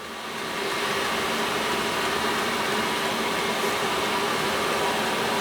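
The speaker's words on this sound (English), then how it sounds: "which means that the loudest part is the heater and not the exhaust" A diesel heater runs with a generator silencer fitted to its exhaust, giving a steady, loud broadband roar with a low hum that holds unchanged throughout, no voices.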